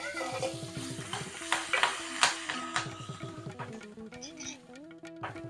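Green chillies and curry leaves go into a hot pan for coconut rice, giving a soft sizzle under intermittent stirring and clinks of the utensil against the pan, faint and close, with some quiet talking in the background.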